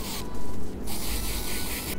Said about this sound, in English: you need to take out a few strands and spray